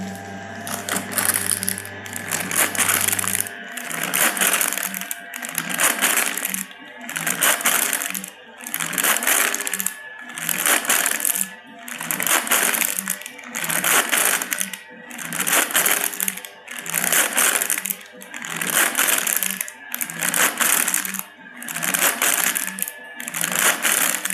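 Fibretec Gelbo flex tester cycling steadily in a lab, a loud, close mechanical churn that repeats in regular pulses about every second and a half, with a low hum at the start and no talking.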